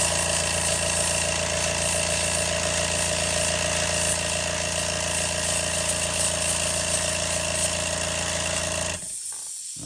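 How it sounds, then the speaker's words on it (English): A leaking air compressor kicks on in a workshop while a foam wake-bait lure is being custom painted, giving a loud, steady motor drone that cuts off abruptly near the end. "Find out that I had a leak in my compressor, so I do know why it's coming on."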